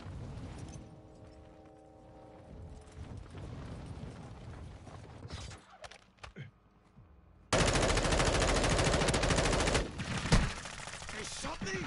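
Gunfire in the video game Call of Duty on PS5, with bursts of automatic shooting aimed at the player, rapid rattling volleys and sharp shots amid in-game mechanical noise and a loud sustained blast of fire near the end.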